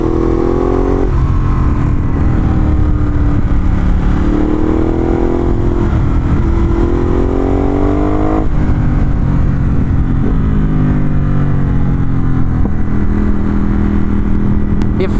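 A 2019 Ducati Hypermotard 950SP motorcycle engine revs hard while being ridden, a loud, continuous roar that climbs and drops through repeated throttle sweeps and gear changes, with steady wind rush throughout.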